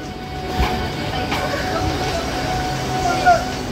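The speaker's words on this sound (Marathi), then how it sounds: "आणि ट्रेन इथे लागलेली आहे." Mumbai local train at a busy station platform, a steady rumbling rail noise with faint clatter and crowd bustle throughout, fairly loud and continuous.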